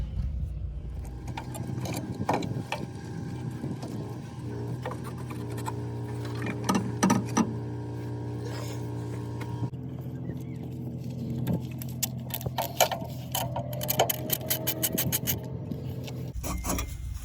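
Flange nuts being loosened and removed from a filter housing pipe: scattered clicks, ratcheting and metallic taps over a steady low motor hum, with occasional rubbing and scraping.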